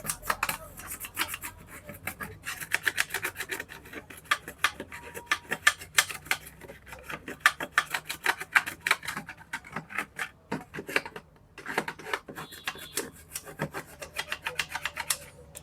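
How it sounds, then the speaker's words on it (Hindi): An old car amplifier's circuit board being scrubbed with thinner, a brisk rapid rhythmic brushing and rubbing that runs steadily throughout, close and fairly loud, with no speech. "इसका बोर्ड जो है पैनल को थोड़ा थिनर से इसको साफ करते हैं।"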